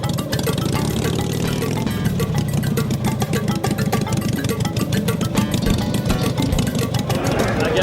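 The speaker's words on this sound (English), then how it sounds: "I got it's after-hours bike, 81 iron head motor." A motorcycle with a 1981 Ironhead engine runs steadily and loud at close range, its rough mechanical rumble continuous throughout.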